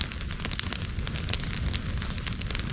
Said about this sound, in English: Beautiful fire.